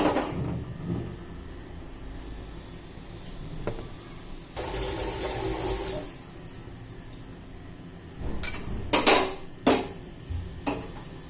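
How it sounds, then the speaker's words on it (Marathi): A kadhai is set down on a gas stove while jaggery amla morabba is being made, giving a few sharp metallic clanks and knocks near the end after a quieter stretch of faint kitchen rustling. "आता कढई ठेवूया"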